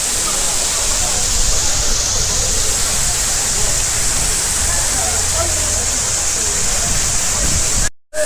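Irachilpara waterfall in Marayoor roars close and loud in wind-blown spray, a constant, full-bodied rush of falling water that cuts out briefly just before the end.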